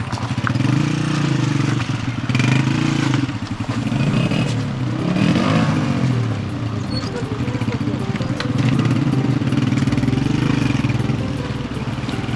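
Motorcycles on a rough mountain road to Kandol Lake in Pakistan rumble and rev steadily throughout, close and loud, with engine noise swelling and easing as bikes pass.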